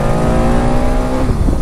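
A Royal Enfield Bullet motorcycle thumps loudly and close by, its exhaust giving a low, steady, bubbling drone that holds throughout without a break.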